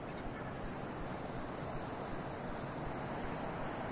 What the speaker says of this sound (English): the waves are lapping against the side of the rock